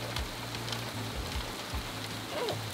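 Rain falling in a garden, a steady soft hiss of drops on leaves and surfaces with faint patters, heard close and fairly quiet, with no talking.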